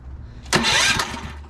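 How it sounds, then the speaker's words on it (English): Predator 224 Mega Moto small engine cranked by a Ryobi electric starter, a short burst of whirring turnover lasting about half a second that catches into a brief roar, close and loud. "let's see how she cranks"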